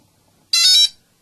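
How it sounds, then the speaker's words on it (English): A quadcopter's ESCs sound an initialization beep once the battery is plugged in: a single bright electronic tone, about a third of a second long, loud and close against a quiet background. "Once you hear all 4 of them have done their initialization beeps"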